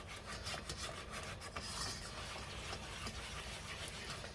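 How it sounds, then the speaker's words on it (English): Close, fairly quiet scraping and rubbing of a whisk stirring cheese into a thickening flour mixture for a beer cheese dip, a steady continuous swish with no talk. "you can feel it on the whisk when you're mixing this"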